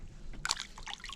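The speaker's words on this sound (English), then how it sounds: "I'll let her go right back in the water." A small crappie drops off a dock into the Lake of the Ozarks with one short splash, followed by light trickling and sloshing water close by.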